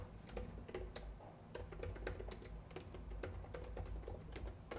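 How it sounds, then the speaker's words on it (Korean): Keys on a computer keyboard clatter in quick, uneven bursts as someone types data entry into accounting software, close and crisp, with short pauses between runs of keystrokes. "타이핑 할게요"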